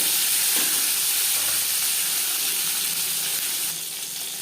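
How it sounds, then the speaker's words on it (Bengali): Shing fish frying in hot mustard oil, a steady loud sizzle and hiss that fills the pan throughout and eases slightly toward the end, with no voices. "তিন চামচ সর্ষার তেল গরম করে নিয়েছি এবার দিয়ে দেব মাছ জ্যান্ত মাছ আমি একটু হালকা করেই ভেজে নেব"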